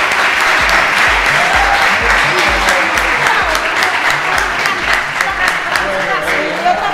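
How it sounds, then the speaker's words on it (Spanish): Crowd applause at a radio event, loud dense clapping with cheering voices mixed in, sustained and close throughout. "¡Un gran aplauso!"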